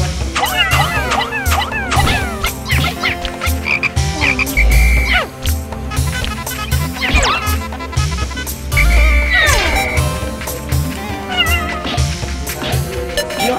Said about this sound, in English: I'm gonna kill the damn frog!